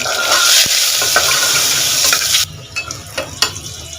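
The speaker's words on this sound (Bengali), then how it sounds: "দুটো মিডিয়াম সাইজের আলু সামান্য লবণ হলুদ দিয়ে ভেজে নেবো" Two medium potatoes fry with salt and turmeric in mustard oil in a cooker. A loud, dense sizzle drops away sharply partway through, leaving quieter crackles and a few scraping knocks. No speech.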